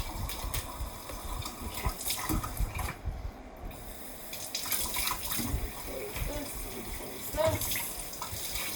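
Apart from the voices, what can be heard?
water running in kitchen sink while washing a teapot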